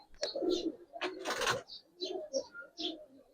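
Several Giribaz pigeons coo nearby in a run of short, repeated rolling calls with brief pauses between, clear and close without speech.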